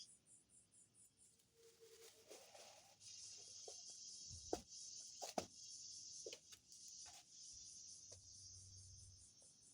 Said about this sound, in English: I can't listen to those cicadas